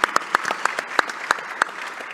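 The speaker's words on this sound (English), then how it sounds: "yes, a round of applause." Brief applause from a summit audience, a handful of distinct sharp claps in an uneven rhythm, fairly close and sparse rather than a full roaring ovation.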